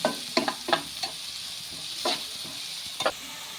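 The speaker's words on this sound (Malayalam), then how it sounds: "കുറച്ച് കറിവേപ്പില നന്നായിട്ടൊന്ന് വഴറ്റിയെടുക്കാം" Curry leaves and green chillies sauté in a pan for Kerala meen pollichathu, a soft sizzle broken by a few sharp scrapes and taps of stirring, quiet and close, with no speech.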